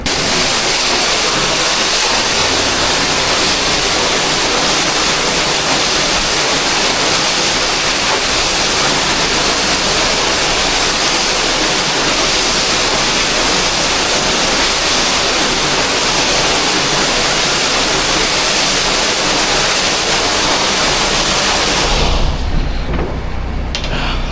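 High-pressure water spraying inside a refrigerated reefer trailer, a loud, continuous hissing roar echoing in the enclosed box, with a faint engine hum beneath, stopping abruptly near the end.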